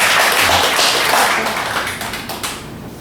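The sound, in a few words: congregation clapping for returning pastor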